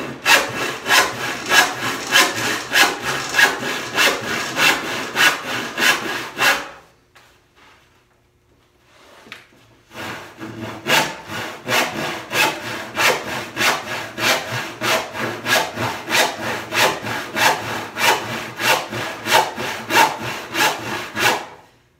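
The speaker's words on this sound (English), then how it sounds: "My saw is getting a little dull" A hand saw cuts through a wood slab in steady, rhythmic back-and-forth strokes, loud and close, with a brief pause partway through before sawing resumes.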